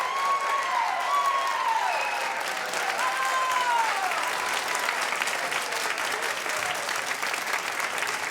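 A concert hall audience applauds a performance with loud, sustained, dense clapping and crowd noise throughout, with a few whistles rising above.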